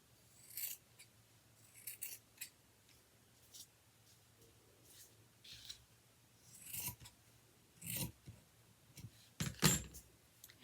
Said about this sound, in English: First, I'm just going to cut that off. And I'm going to cut it in 2.